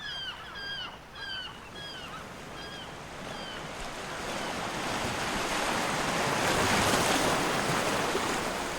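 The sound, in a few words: realistic recording of ocean waves at a beach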